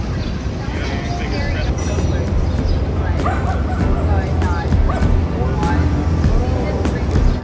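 Dogs bark and yip in a small city park in New York, several sharp barks scattered over a busy background of traffic hum and crowd babble, with a voice talking over the scene.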